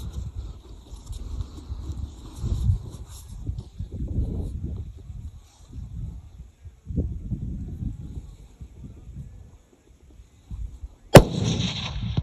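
A single sharp rifle shot cracks out near the end during a Barbary sheep hunt in West Texas, loud and sudden after a stretch of quiet wind and faint rustling outdoors.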